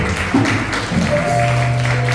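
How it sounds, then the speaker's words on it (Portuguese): A church congregation applauds during a Purim festival closing service, broad continuous clapping from a large crowd with sustained instrumental tones underneath, loud and steady throughout. "aplauda o Senhor mais uma vez"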